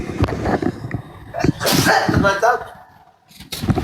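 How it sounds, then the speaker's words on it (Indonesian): A man sneezes sharply once mid-stream, a loud burst with a breathy tail, set between stretches of his own close, steady speech. "Ternyata bersin dulu."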